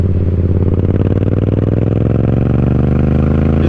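Yamaha MT-07 (2021) motorcycle fitted with an M4 full exhaust, a loud, deep, throaty engine note held close with a steady pulsing rumble, its pitch shifting slightly as the engine is revved.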